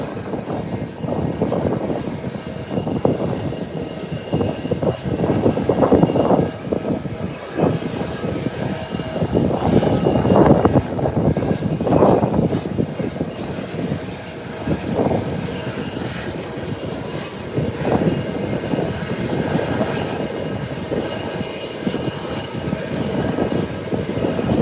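Airliner jet engines rumble steadily at an airport as a JetBlue flight prepares to depart for New York JFK, a continuous broad roar with surging swells, fairly loud and unbroken, with no talk.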